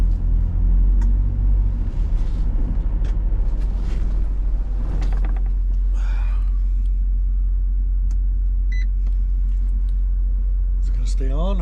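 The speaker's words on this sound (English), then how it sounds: "starting this truck again." A truck engine turns over and settles into a steady, loud low idle rumble that continues throughout, with a few brief clicks and a short voice near the end.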